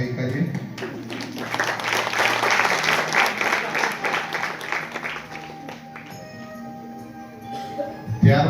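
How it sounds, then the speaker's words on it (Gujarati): An audience at B. D. Shah College of Education claps warmly to welcome an honoured guest, building into a full, sustained round of applause that gradually thins and fades out toward the end. "આપણે તાળીઓ પાડવામાં કંજુસાઈ નહીં કરીએ."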